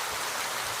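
A downpour in Dubai pours down as an even, unbroken rushing hiss, near and fairly loud, with nobody talking.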